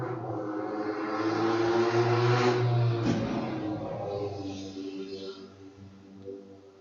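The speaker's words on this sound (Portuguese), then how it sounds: "Passando uma moto lá na rua." A motorcycle passes on the street outside a classroom, a rising and fading engine whine that swells and recedes over several seconds, heard faintly behind the room's ambience.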